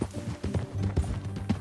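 Horse hooves clip-clopping at a steady ride in the Red Dead Redemption 2 western video game, a close, continuous run of hoof beats for under two seconds.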